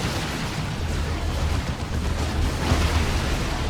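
Plasma cannon fire in a Dawn of War 2 match between Imperial Guard and Tyranids, heard as a continuous, dense roar of booming, rumbling battle noise, steady and loud for the whole stretch, with a slight swell near the end.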